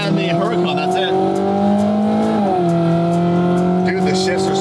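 A Ferrari 458 GT3 widebody race car engine drones loudly from inside the cabin. It holds a steady pitch, then one fast upshift drops the revs midway. People talk over the engine.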